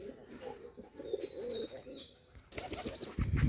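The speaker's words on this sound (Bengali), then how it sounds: "এটা বোম্বাই কবুতর কীভাবে ডাকাডাকি করতেছে" A white Bombay pigeon coos in soft, repeated throaty phrases close by, with a brief flutter of wings and some background birds toward the end.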